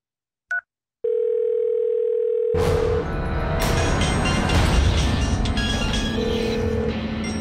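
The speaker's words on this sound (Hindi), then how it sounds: "रागिनी को कॉल कर दो." A short beep, then a steady phone ringback tone for about two seconds before a loud, dense rush of sound swamps it.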